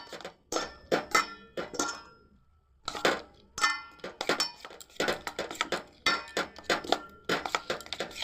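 Spices, coriander powder and Kashmiri red chilli, being stirred into a potato omelette batter in a bowl, making repeated close clinks and taps of utensil against the bowl in quick bursts with short pauses.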